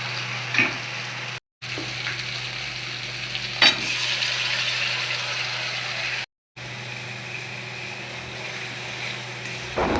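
Spice paste with green chilli, tomato and sour curd frying in a pan for doi katla fish, a continuous loud sizzle with light stirring knocks and two short breaks.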